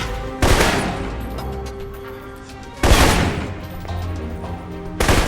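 Assault rifle fire from the video game Alpha Protocol, with three loud, sharp broadband bursts, the first and second each trailing into a long decaying echo, against a steady low background hum with no talking.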